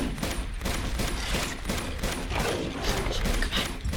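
Gunfire in the video game Uncharted 2, a dense, continuous fusillade of rapid shots and bursts filling the whole stretch, loud and busy with no speech.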